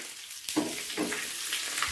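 Mustard seeds crackle and sizzle in hot oil, with a few sharp pops over a steady frying hiss.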